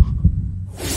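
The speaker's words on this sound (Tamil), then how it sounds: "மறுபடியும் ஹார்ட் பீட் தானா?" A deep, booming heartbeat sound effect from a Tamil TV serial throbs low and loud, with a thump near the start and a rushing swell at the end.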